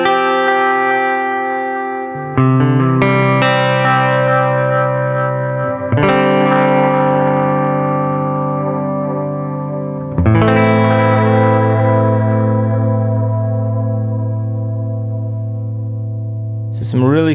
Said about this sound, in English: As I dial back the speed and the depth just a little bit, you get a really nice modulation effect on those tails.